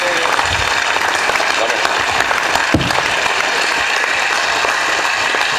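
Applause from the audience at a Lega Nord party rally, a short burst of clapping at moderate level that carries steadily through the clip, with a voice faintly audible beneath.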